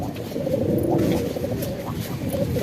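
Shahjahanpuri pigeons coo softly and continuously, a low murmuring burble from several birds close by, with faint background noise and no speech.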